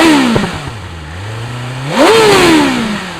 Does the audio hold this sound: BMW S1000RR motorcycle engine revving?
yes